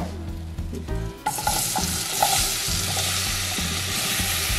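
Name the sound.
apples added to a hot pan, sizzling and stirring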